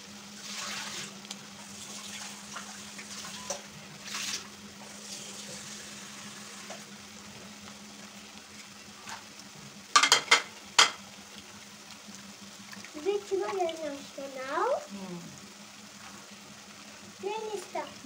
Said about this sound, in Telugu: సో ఇందులో ఇప్పుడు సన్నగా కట్ చేసిన అరటికాయ ముక్కలు అలాగే గ్రీన్ పీస్ కూడా వేస్తున్నాను